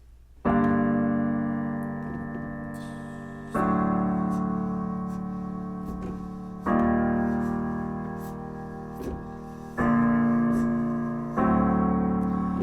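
A piano plays a slow progression of sustained chords, each struck fully and left to ring for about three seconds, with light notes added between.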